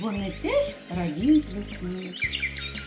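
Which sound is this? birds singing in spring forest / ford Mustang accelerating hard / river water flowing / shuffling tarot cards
birds singing in spring forest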